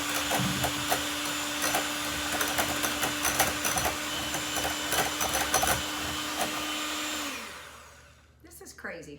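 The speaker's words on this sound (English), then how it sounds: "So I'm going to use a hand mixer that I have right here, and we are going to mix on high and get this really stiff." An electric hand mixer runs on high, whipping a honey and lemon face mask in a bathroom: a loud, steady whine with rattling beater clatter, then it winds down near the end as handling noise follows.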